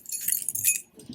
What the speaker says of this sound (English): Because the key fell.